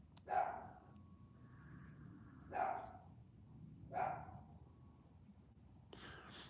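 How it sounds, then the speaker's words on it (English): Small dogs barking: three sharp, separate barks spaced a couple of seconds apart, moderately close, over a low steady background hum, with another brief burst near the end. "Those little dogs bark the most, don't they?"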